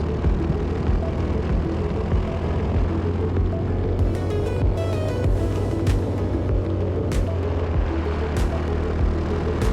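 A racing kart on a fast practice lap at Ellough Park Raceway during a junior championship round, its engine droning and throbbing steadily throughout, with brief higher buzzing passages midway.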